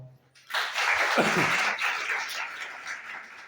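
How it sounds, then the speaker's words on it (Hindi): Children in a class clap for their classmates, a burst of scattered hand claps starting suddenly after a moment of quiet, loud at first and then tapering off gradually. "इनके लिए तालियां बजाओ"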